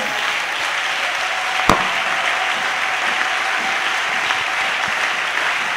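A church congregation claps steadily for the Lord, a dense, even roar of applause filling the room, with one sharp louder clap standing out early on.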